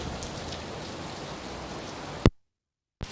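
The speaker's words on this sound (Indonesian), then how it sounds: "Hujan guys, hujan" Steady rain falls on a Sunday as a continuous dense hiss of drops for a little over two seconds, then breaks off abruptly into silence.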